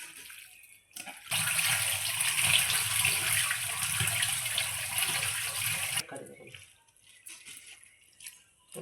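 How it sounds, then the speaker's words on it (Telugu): A strong rush of water pours from washed chicken pieces into a draining container for pickle, loud and steady for about five seconds, then stops abruptly. Quieter trickles and handling noises follow, with no talking. "వాటర్ అంతా ఫుల్గా వచ్చేస్తుంది"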